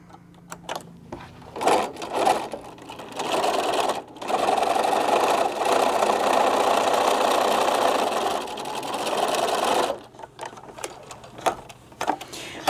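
A sewing machine stitches a Japanese knot bag in a steady mechanical whir that runs for several seconds, preceded and followed by short bursts and clicks, close up and loud.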